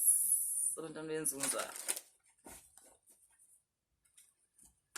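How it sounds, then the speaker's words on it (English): Oracle cards being shuffled: a quick papery riffle and rustle for about two seconds, with a short voiced sound mixed in, then near-silence broken only by faint soft ticks. "So let's pull some oracle cards."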